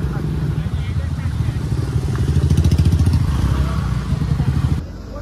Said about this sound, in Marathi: ट्रॅफिक तुम्ही बघू शकता, किती सारा गाड्या आणि किती सारे लोक आले